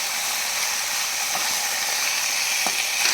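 Chicken pieces fry in a pan with a continuous loud, bright sizzle and hiss, a few faint clicks scattered through it, no voices.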